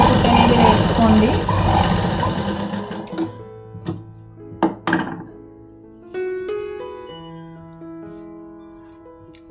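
A sewing machine runs in a steady whirring stitch on blouse fabric for about three seconds, then stops, leaving a few clicks, knocks and light handling sounds with soft background tones.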